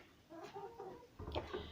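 Hens in a small barn on a night with a snowstorm outside, waiting for feed, give a few soft, close clucks and murmurs that build into a busier burst near the end.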